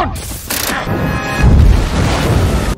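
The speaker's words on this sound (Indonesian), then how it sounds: "meskipun bom telah meledak" Bomb blast in a film's climactic action scene, a deep low-frequency explosion rumbling and swelling after a sharp burst, blended with a dense cinematic score and other battle effects, loud and sustained.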